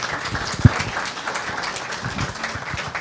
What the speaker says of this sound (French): On peut applaudir Dany et Manon